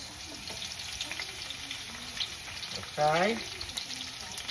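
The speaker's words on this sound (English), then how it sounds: "oil is nice and hot. We're going to start with the onions, and then some peppers." Onions, then peppers, sizzling in hot oil in a pan for chicken cacciatore, a steady broad frying hiss throughout with a brief louder burst near the end as food hits the pan; a voice speaks briefly.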